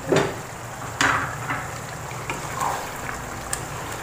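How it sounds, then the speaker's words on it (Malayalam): A pot of Kerala-style chicken stew with coconut milk is stirred, with a couple of sharp scraping knocks over a steady low bubbling sizzle, close and without voices. "ഞാനിവിടെ ഒന്നാം പാൽ ചേർത്തിട്ടുണ്ട് ഇനി നമുക്ക് നന്നായിട്ടൊന്നങ്ങ് ഇളക്കി കൊടുക്കാം"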